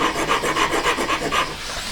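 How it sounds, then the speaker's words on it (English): A needle file rasps back and forth on a small metal pendant hanging ring, about seven quick, even strokes up close and fairly loud, with no talk. "So just carefully with a needle file"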